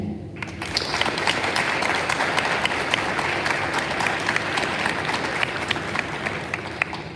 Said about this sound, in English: Can we get another round of applause for our combined chorus and bands today?